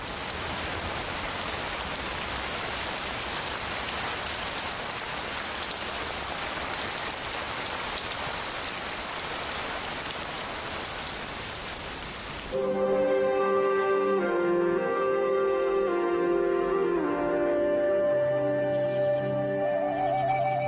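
Heavy rain falls in a mountain valley in southern Yunnan as a dense, even hiss, then gives way to a different, more tonal outdoor soundscape, with no talking.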